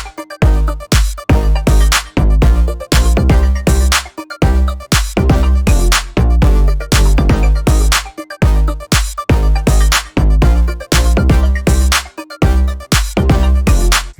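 A punchy pop hook built from Ableton stock presets: loud, dense synths over heavy pulsing bass and driving drums, the rhythm chopped into tight repeating bursts, with no talking.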